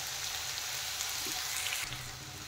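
Potatoes fry in a pan with salt and turmeric powder, giving a soft, steady sizzle with a brief stir-like shuffle near the end.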